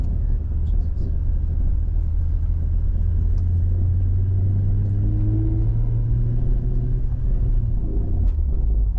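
A manual car's engine rumbles loud and close from inside the cabin while driving on a salted road, its low drone rising in pitch as it pulls through a gear, with occasional faint talk.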